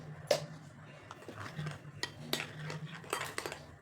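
Spoon clinks and scrapes against a bowl while baking powder and baking soda are mixed, several sharp taps scattered across a quiet kitchen background.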